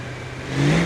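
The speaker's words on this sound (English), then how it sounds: "when you can actually rev the vehicle, do a nice hill start" A vehicle engine in the driving game BeamNG, on a jungle rock industrial site, revving up with a rising, loud mechanical drone in the second half of a short moment after a steady hum.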